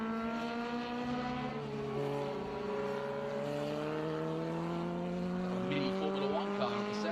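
A Super V vintage race car, a small open-wheel 1970s formula car, drives the Mid-Ohio track, its engine note climbing and shifting through steady harmonic sweeps, heard at a distance with some crowd or track noise.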